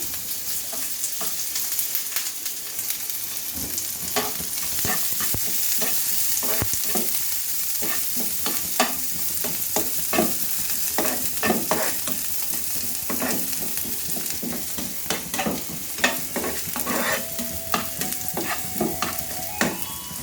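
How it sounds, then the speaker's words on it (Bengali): Chopped green chili fries over medium heat in a pan for onthon, giving a steady close sizzle with frequent clicks and scrapes of stirring; no talking. "এরপর দিব মরিচ কুচি। জালটা মিডিয়াম আঁচে থাকবে।"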